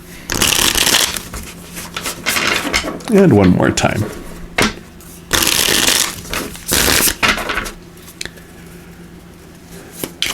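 Tarot cards shuffled in repeated crisp riffling bursts, close and fairly loud, with someone speaking briefly between the shuffles.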